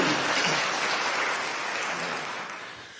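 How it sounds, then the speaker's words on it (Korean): A church congregation claps in welcome during a Sunday morning service, a dense, steady wash of applause filling the room and slowly tapering off toward the end. "환영의 박수 부탁드립니다."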